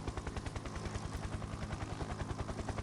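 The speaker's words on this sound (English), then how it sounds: "Now the helicopter will fly itself." A video game helicopter's rotor thumps in a fast, steady, rhythmic chop, loud and close, over a dense roaring engine wash with no pause throughout.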